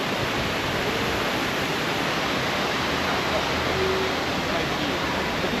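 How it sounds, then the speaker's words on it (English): A waterfall in its low season roars as a constant, dense wash of rushing water, steady and enveloping for the whole stretch with no pauses. "So we just got to the waterfall and this is the low season at the moment."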